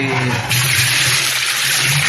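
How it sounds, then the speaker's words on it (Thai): Rainwater pours in a heavy stream, splashing into a bucket in the shade, and the sound swells louder after a brief moment. "เทน้ำฝนลงไปให้ท่วมนะครับ"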